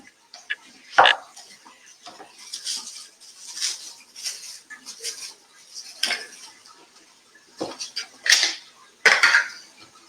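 A prep bowl is pulled out in a home kitchen with scattered clinks and clatters of dishes and utensils, sharp knocks standing out against quiet gaps, close by and without talk.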